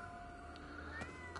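Cats meowing in the video game Ghostwire Tokyo, a soft, faint mew or two over a steady ambient game backdrop, with no talking.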